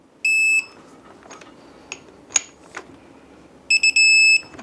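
A torque wrench beeps as sprocket bolts on a Suzuki LTZ400 engine are tightened to 7 foot-pounds. Two loud bursts of steady beeping, one at the start and one at the end, frame a few soft clicks and knocks.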